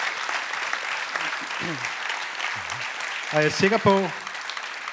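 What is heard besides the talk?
audience applause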